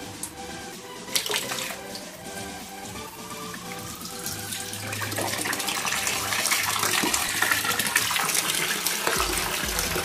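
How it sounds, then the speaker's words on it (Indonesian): A Rosston SP-2600 low-watt aquarium pump runs and pumps water through a short hose, giving a continuous gushing, splashing flow that grows slightly louder over time, with a few clicks near the start. "Ini pompanya pas SP 2600."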